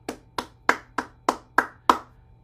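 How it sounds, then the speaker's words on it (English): Seven sharp hand claps in a steady, even rhythm, close and crisp, each with a short decay and no talking. "let's clap"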